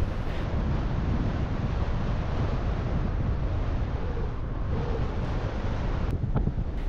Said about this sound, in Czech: vítr asi dost zesílil